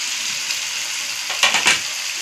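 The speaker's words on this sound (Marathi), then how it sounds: "आणि हे चांगलं असं हलवून घ्यायचं, परतून घ्यायचं चांगलं." Boiled potato and egg masala sizzling steadily in a pan, a continuous frying hiss with a couple of brief scraping stirs of a spoon near the end.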